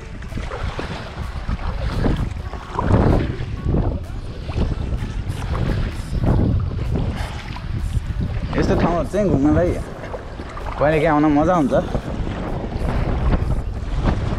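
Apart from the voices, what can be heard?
wind blowing while kayaking on a river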